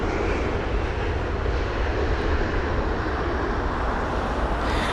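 An Airbus A320neo airliner comes in to land at London Heathrow in windy conditions, a steady, loud, broadband engine roar that holds evenly throughout with no voices.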